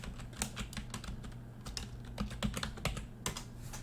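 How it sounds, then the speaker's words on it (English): Rapid, irregular keystrokes on a computer keyboard clatter close by in uneven bursts, with no talking. "let me see if I can actually type it properly and be competent"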